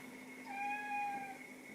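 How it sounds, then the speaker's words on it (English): A cat wanting attention gives a single drawn-out meow. The call is fairly faint and stands alone against a quiet indoor background. "that is a cat who wants attention"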